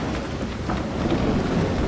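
Thunderstorm in Farming Simulator 25, a steady, loud wash of rain with a low rumbling roll underneath that holds through the whole short stretch, with no voices over it.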